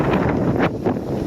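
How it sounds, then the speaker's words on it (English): Wind at a quarry by clear water buffets the microphone in loud, steady rumbling gusts, with no one talking. "A little windy."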